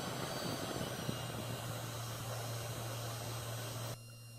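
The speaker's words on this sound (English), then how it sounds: "So turn on the spindle." A CNC mill spindle runs while milling a PCB, giving a steady, faint whirring hum that holds level and then drops off abruptly near the end.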